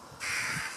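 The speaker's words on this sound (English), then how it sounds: "just wanted to show you that I was being attacked by birds" Crows caw loudly and harshly overhead as they circle and swoop to attack, a single sustained burst of raucous calling close by with no talk.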